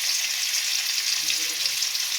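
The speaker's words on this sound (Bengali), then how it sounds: "ডিমগুলো আমি ভেজে নেব। অপেক্ষা করছি ডিমগুলো ভাজা হয়ে আসা পর্যন্ত।" Eggs frying in hot oil in a pan for a Bengali egg curry, giving a steady, close sizzling hiss that holds even throughout with no talk over it.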